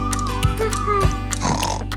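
A toddler's farm toy with a pig: short grunting oinks, with a voice imitating the pig's oink over a low background hum, close and brief.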